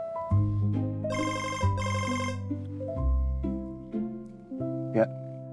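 A telephone rings during an outgoing call, a melodic electronic ringtone of repeated tonal notes, clear and close with no other sounds.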